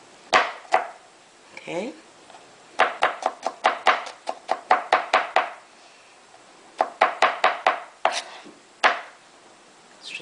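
Knife chopping garlic and green onions on a cutting board while making gyoza, a series of sharp, rapid wooden knocks in bursts, close and fairly loud, with a voice speaking briefly between the chops.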